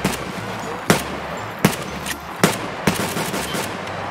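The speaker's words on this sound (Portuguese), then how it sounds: "Tô tomando tiro." Gunfire in a tactical shooter game, several sharp loud shots or short bursts spaced about a second apart over a low background hum, with no talk over them.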